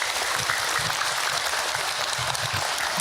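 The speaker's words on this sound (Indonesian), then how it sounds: "Tepuk tangan untuk kita semua." Audience applause at an Indonesian talk on marriage and infidelity, a continuous, even burst of many people clapping together, fairly loud and close, with no talk over it.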